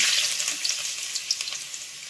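Chopped ginger and garlic fry in hot oil in a pan, giving a bright, close, continuous sizzle with a few light crackles.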